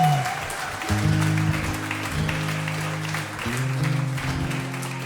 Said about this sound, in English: please give our hosts the biggest round of applause possible if we could.